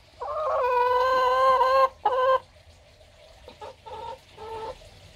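A rooster and hens clucking and calling in a backyard flock, a loud sustained call with harmonics up front followed by shorter broken clucks, close and alone without talk.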